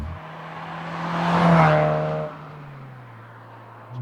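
A 1997 Alfa Romeo 145 Cloverleaf engine revs up toward its 7,000 RPM redline and falls back, a smooth rising and falling wail, close and loud, with no talking.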